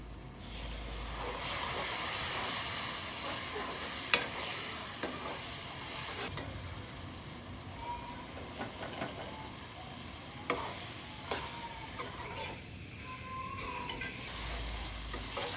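Masala spices (turmeric, dried coriander, red chilli and garam masala) roasting in a pan with a little water, a steady soft sizzle and hiss with occasional scraping stir clicks, close and continuous without talk.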